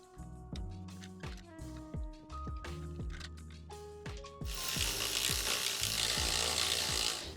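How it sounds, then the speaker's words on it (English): Metal bolts and a new alternator being fitted and ratcheted into place on a car engine during an A/C compressor, alternator and power steering replacement: a run of sharp clicks and clanks close by, then a steady hiss late on. "now we can pivot it back upright and into its slots and put the bolts in."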